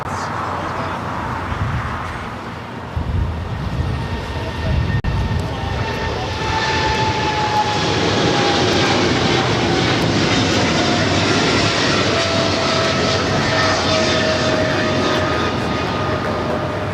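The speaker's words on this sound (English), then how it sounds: "Seven-year-old 777 freighter delivered to Korean Air Cargo in September of 2016." A Boeing 777 freighter of Korean Air Cargo at LAX roars loud and steady, its jet engine noise swelling and then holding as a broad rush with a thin whine over it, with no other sounds.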